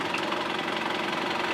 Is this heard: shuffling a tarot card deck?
no